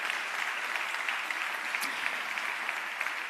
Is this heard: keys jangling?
no